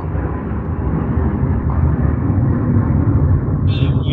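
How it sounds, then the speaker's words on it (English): A low, steady roar of an airplane flying overhead fills the stretch, loud and continuous with a broad rumble and no talk. "I heard the plane"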